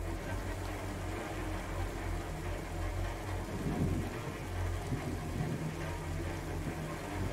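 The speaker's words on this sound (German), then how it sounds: "Der Blitz. Sie haben Angst vor Blitzen." A thunderstorm in the video game A Plague Tale: Innocence, with steady rain and rolling thunder rumbling low and continuous throughout, no voices.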